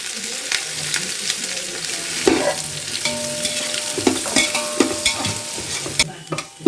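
Sliced onions and green chilies frying in a pan for chicken dum biryani, with a loud continuous sizzle and repeated scraping stirs of a spatula throughout.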